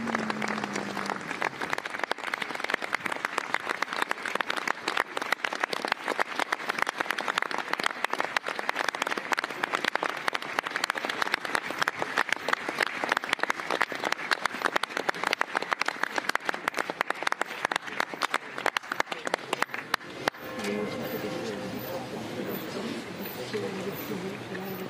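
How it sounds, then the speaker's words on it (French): Crowd applause at the funeral tribute to actor Gaspard Ulliel, steady and sustained for about twenty seconds before tapering off into quieter murmuring and ambient sound. "Écoutez de nouveau des applaudissements à l'instant"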